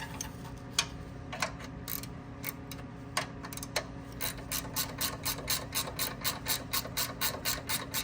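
A ratchet wrench loosening a nut on a 1948 John Deere B tractor, clicking at first in scattered bursts, then settling into a steady, even run of close, crisp ratchet strokes with no speech.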